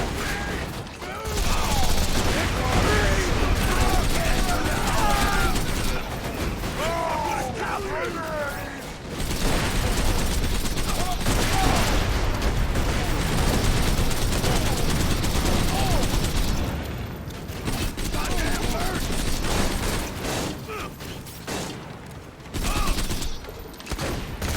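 Enemy gunfire in a Borderlands-style shooter, an elevated gunner firing explosive rounds down at the player, crackles in dense continuous bursts with booming impacts, mixed under steady talk and game effects.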